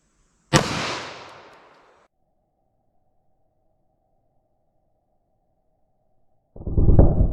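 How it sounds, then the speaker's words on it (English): A single loud .40 S&W pistol shot fired into MDF board cracks sharply and rings out for over a second. Silence follows, then another loud burst of noise near the end. "40 Smith & Wesson through the MDF"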